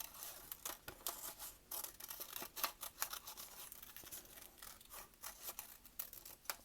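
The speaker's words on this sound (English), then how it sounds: "So, I'm gonna follow the line. Again, moving my scissors," Close, quiet snips of scissors cutting through paper, a quick irregular series of crisp cuts with faint rustling between.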